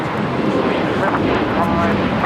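Broad, loud roar of a jet airplane taking off from runway 25 right at LAX, a steady wash of engine noise with wind rumble, heard throughout the short stretch.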